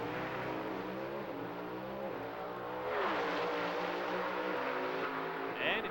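Gasoline-burning carbureted Pro Stock drag cars roar down the strip, engines rising in pitch through gear changes, heard at a distance beneath a commentator's voice.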